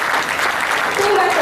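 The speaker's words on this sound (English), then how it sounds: "Can we have a big round of applause and welcome them" Audience applause at a Navaratri Puja medical seminar in Oman, welcoming guests; a dense, steady wash of clapping fills the short moment, with faint voices mixed in.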